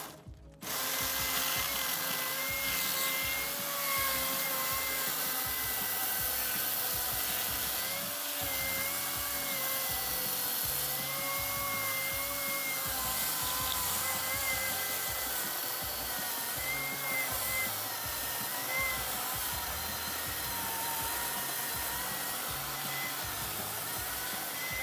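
A Milwaukee 16-inch chainsaw cutting through wood runs as a steady, loud motor whine that holds nearly constant for about twenty-five seconds after a brief start.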